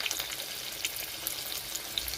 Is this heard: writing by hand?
no